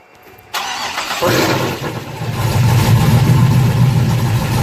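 A Chevrolet Camaro's engine starts for the first time: after a quiet moment the starter cranks, the engine catches, and it settles into a loud, steady, close-up running rumble with some revving. No voices.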